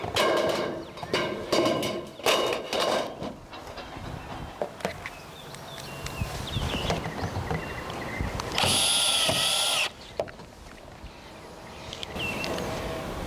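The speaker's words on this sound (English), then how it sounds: "The top cap is then centered over the peak of the roof and secured with tech screws." A power drill drives tech screws through a steel ridge cap on a roof peak, with repeated whirring bursts, one long high whine near the end, and outdoor background noise, close and moderately loud.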